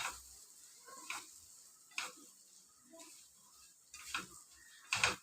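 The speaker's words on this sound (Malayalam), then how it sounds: "മാങ്ങ എല്ലാം കൂടെ നല്ലപോലെ മിക്സ് ചെയ്യാവേ" Mango pickle with vinegar and oil is stirred and mixed with a spoon in a pot, giving soft, faint scraping and squelching strokes about once a second, with a few sharper clinks.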